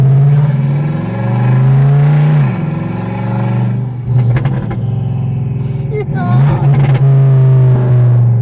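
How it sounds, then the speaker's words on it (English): An Audi S6 with a swapped ZF8 transmission idles and revs loudly up close, its engine rising and falling with turbo spool and a couple of sharp bursts, while people talk over it. "you can hear it spooling at fucking idle. You can hear it spooling real good."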